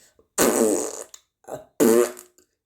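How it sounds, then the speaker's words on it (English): A man breaks wind in a room full of bunk beds, two loud, drawn-out farts, each close and raspy, separated by a short quieter burst, with no talking. "one night a man crack and fart"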